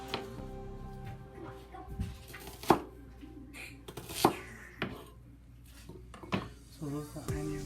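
A knife chops onion and red pepper on a cutting board, giving a handful of sharp, close knocks spaced unevenly among quieter kitchen handling sounds.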